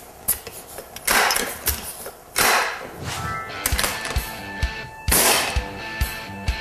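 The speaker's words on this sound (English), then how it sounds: "I'm just going to pump it up twice, put a pellet in, and then do the test." A Benjamin 392 pellet air rifle is pumped twice and fired, giving sharp, close bursts of pumping strokes and a loud snapping shot, with a few metallic clicks and thumps around them.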